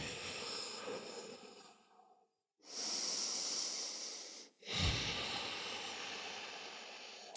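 Slow, deep breaths drawn in and let out during a morning yoga session as the body folds into a forward bend, each long airy breath close and faint, with short still gaps between them.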